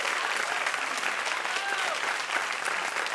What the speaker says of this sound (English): so you should give him a round of applause for that.